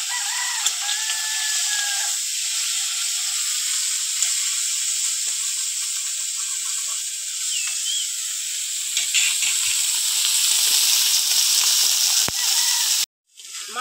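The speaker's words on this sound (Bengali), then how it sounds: "লবণ আর হলুদ মাছগুলো এবার ভেজে নেব।" Small mourola fish, rubbed with salt and turmeric, fry in hot oil with a steady, loud broadband hiss and sizzle. It runs unbroken for about thirteen seconds, with a faint call early on, then cuts off abruptly near the end.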